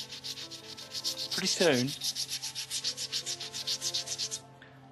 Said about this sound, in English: I've got a metal surface here, freshly machined, clean and shiny. If I bring an abrasive into contact with it